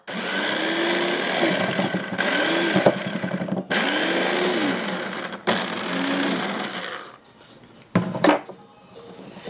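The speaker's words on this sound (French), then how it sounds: "Coup de mixeur pas longtemps, mais de temps en temps" A kitchen blender chops wild garlic for vegan pesto in several loud, steady whirring bursts with brief stops between, ending in a quieter stretch and a short clatter.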